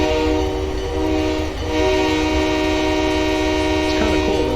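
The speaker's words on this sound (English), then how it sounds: "The train going that way." Freight train in Train Simulator 2022 on the Rio Grande route near Salt Lake City, its horn blaring loud and sustained as a chord across the whole stretch over a steady low rumble of rolling wagons.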